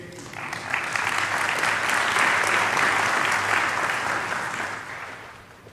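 A conference audience at a Black Hat security talk applauds to welcome a speaker to the stage, dense clapping that swells, holds steady for several seconds, then fades out.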